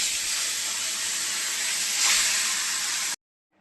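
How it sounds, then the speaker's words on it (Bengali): Fish sizzle in a pan of hot oil as a batch is fried for a mango-sour fish dish, with a loud, steady hiss that swells briefly and then cuts off abruptly. "বাকি মাছগুলোও ভেজে নিচ্ছি।"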